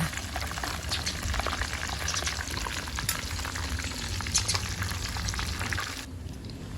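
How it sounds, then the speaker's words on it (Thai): Snakehead fish frying in hot oil until golden and crispy makes a loud, dense, continuous sizzle with crackling pops, then drops abruptly to a quieter hiss near the end. "ปลาทอดเท่ากับซุกเหลืองกรอบแล้วจ้า"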